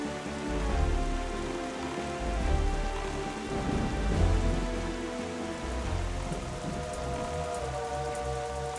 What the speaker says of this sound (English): And a huge storm.